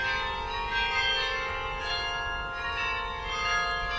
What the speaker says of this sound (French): Les carillons sonnant la mort de l'heure